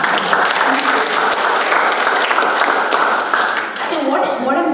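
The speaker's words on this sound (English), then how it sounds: "Please give him a round of applause." At a motivational talk in Hyderabad, an audience gives a round of applause, a loud, dense and sustained roar of clapping close by that thins briefly near the end.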